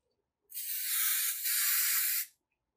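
A can of spray adhesive is sprayed onto felt while a Festa Junina decoration is being made. One steady, close hiss lasts nearly two seconds with a brief dip partway through, alone in otherwise quiet surroundings.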